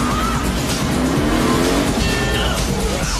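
The Gadgetmobile, a talking car, speeds off with loud, continuous tire squeal and a revving engine, filling the whole moment at close range with no talk over it.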